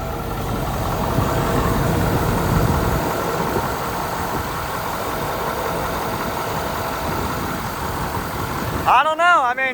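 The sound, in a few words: whining from high pressure line, 2012 Ford 6.7 diesel engine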